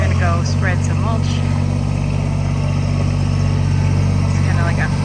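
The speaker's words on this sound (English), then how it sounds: "The tractor's probably pretty loud on here." A tractor engine running steadily close by while mulch is spread in a yard, a loud constant rumble throughout, with a person talking over it.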